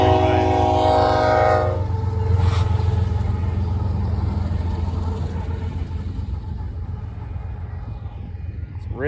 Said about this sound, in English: It's a really short little train.